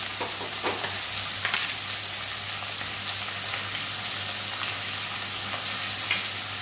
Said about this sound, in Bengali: খুব একটা ভাজবো না, সামান্য ভাজবো।